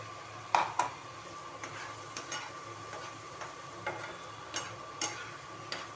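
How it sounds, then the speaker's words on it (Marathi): Tomato paste fries in oil in a pan for rajma, giving a soft sizzle with scattered clicks and taps as it is stirred, the spoon knocks spaced every second or so. "आता ही टोमॅटो पेस्ट आहे ना ह्याला पण तेल सुटेपर्यंत भाजून घ्यायचं."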